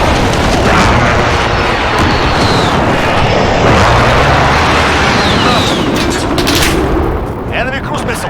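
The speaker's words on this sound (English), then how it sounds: "Allied precision airstrike incoming" A precision airstrike lands in a Call of Duty Modern Warfare battle. Loud, dense gunfire and booming blasts pile up with rushing, aircraft-like sweeps over a constant roar of combat.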